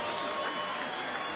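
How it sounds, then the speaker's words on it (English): Boxing arena crowd applauding both fighters after a twelve-round championship bout, a steady wash of clapping and crowd noise filling the hall at an even level throughout. "please give both fighters a round of applause for 12 exciting rounds of championship"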